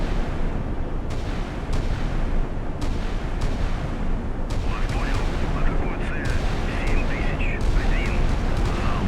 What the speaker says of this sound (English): soon as the light cruiser starts blasting away